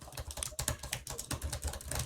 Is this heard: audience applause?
no